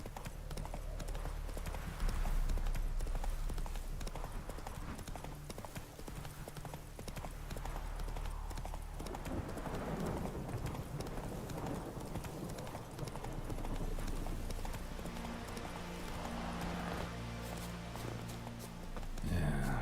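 Roach the horse gallops in the Witcher 3 video game, with steady hoof clip-clops running under game music and ambience at moderate loudness throughout.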